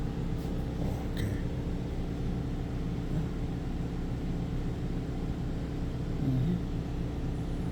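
A Pulsar 4000-watt inverter generator runs steadily with an even, low mechanical hum and no change in pace, heard alone from close by and fairly quiet throughout.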